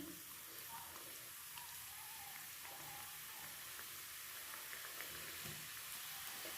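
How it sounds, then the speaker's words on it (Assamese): Assamese jun pitha, a coconut-filled gujiya-style dumpling, fries in a kadai of oil over a low gas flame, giving a steady, dense, fizzing sizzle that holds at an even level throughout. "এইটো কম জুইত ভাজিব লাগিব"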